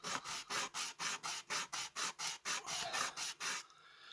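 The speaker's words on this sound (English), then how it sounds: "I'm just gonna give them a little bit of a sanding on the back." Sandpaper rubbed back and forth across the backs of plastic model kit barrels, about a dozen even, close rasping strokes in a steady rhythm before stopping.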